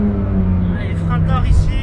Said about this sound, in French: on l'entend en plus avec le régime moteur, tu entends bien que j'ai pas remis du gaz